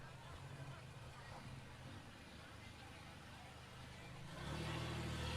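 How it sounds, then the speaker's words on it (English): A demolition derby car approaches at an outdoor derby arena, a steady engine rumble with road-like noise that swells louder near the end, no talk over it. "Got our first car coming up here."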